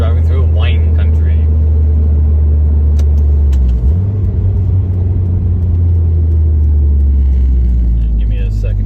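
A car drives through foggy wine country, its engine a steady, loud low rumble throughout with a slight shift in pitch midway, as if changing gear.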